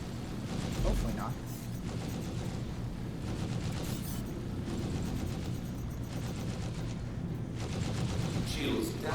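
Continuous space-ship battle gunfire in a video game: dense, loud, steady barrage of shots and explosions with rumbling mechanical noise throughout, with someone talking over it.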